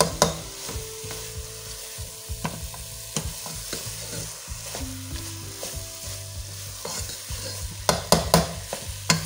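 A spoon scraping and stirring khoya into carrot halwa in a pan, repeated clinks and scrapes over a soft sizzle, close and alone with no talk.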